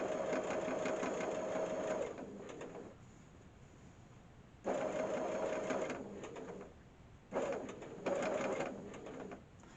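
A sewing machine stitches a fabric peg bag in close, steady bursts of motor whirring, stopping in pauses between runs, with no voices.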